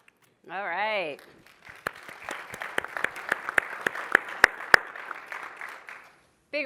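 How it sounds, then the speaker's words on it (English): An audience at a Red Bull event breaks into scattered, fairly close clapping that swells briefly and then stops, preceded by a short voice. "Big round of applause for our AV folks."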